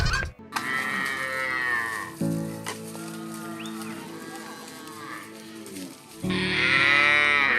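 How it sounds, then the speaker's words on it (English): Maasai cattle moo loudly and repeatedly as they head out to graze, several long drawn-out lowing calls from nearby animals with a few bleats mixed in. "Proud mama of 60 plus cows."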